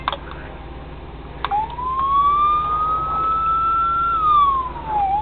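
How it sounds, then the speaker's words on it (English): A toy 1:18 scale sheriff car's police siren wails, rising to a steady electronic tone, holding, then dipping and rising again, loud and close with a tinny, thin quality. "More of a realistic siren for the sheriff's car."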